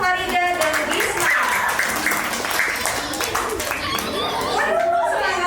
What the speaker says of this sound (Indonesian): tepuk tangan untuk Farida dan Bisma.